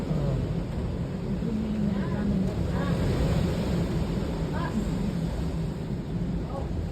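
Loud ocean surf roars steadily and close, a dense unbroken wash of breaking waves throughout, with faint voices briefly audible beneath it.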